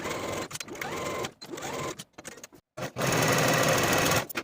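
A sewing machine stitches the underarm seam of a blouse sleeve in short stop-start bursts, then settles into one steady, close run of stitching.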